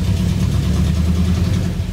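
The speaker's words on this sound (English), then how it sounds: "See if it'll idle on its own." A 1985 Ford Bronco V8 engine with a suspected ignition problem idling close by, a steady low rumble with slight unevenness and no voices.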